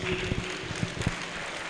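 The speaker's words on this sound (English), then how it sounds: "A round of applause, please." Scattered clapping from an audience at an awards and investiture ceremony, fairly faint and uneven, with a few sharper claps standing out over a low steady hum.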